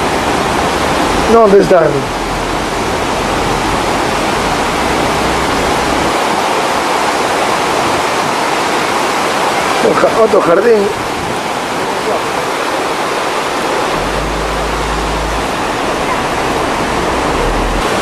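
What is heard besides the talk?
rushing river flowing downhill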